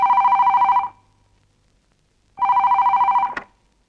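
A landline telephone bell rings for an incoming collect call in a Malayalam film scene. Two loud, close trilling rings are separated by about a second and a half of silence, and the second ring is cut short by a click.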